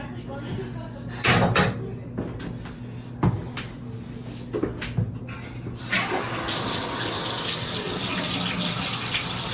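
A newly installed high-rise gooseneck shower head over a tub: a few clanks and knocks, then the water comes on as a steady, loud rushing spray, with a voice faintly in the background.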